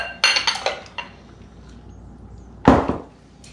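A bigger mixing bowl being swapped in while making pineapple chicken: several close clinks and knocks of bowl and utensil, a pause, then one louder clattering set-down.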